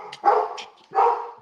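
A dog outdoors gives two loud, close barks about half a second apart, each a short gruff woof standing alone without talk.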